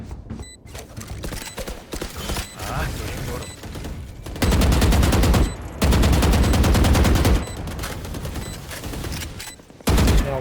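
Rapid gunfire in the Valorant shooter on the Abyss map, loud sustained automatic bursts separated by short pauses, with in-game effects and faint talk between.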